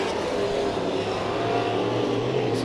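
Sport mod race cars roar around the dirt oval at Santa Maria Raceway, a continuous loud engine drone with revving and layered cars at a steady racing pitch, no talk over it.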